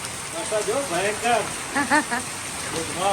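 Steady rain pours in a broad, even hiss that runs throughout, with people talking over it close by.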